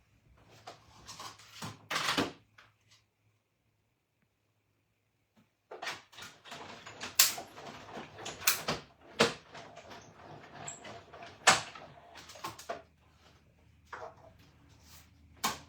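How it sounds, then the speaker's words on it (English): A Cut and Emboss machine cranks cardstock through for a festive balloon card: a pair of sharp knocks, a pause of near silence, then a run of irregular clunks, clicks and rasping grinds at close range with no talking. "So I'm going to cut this real quick in the Cut and Emboss machine."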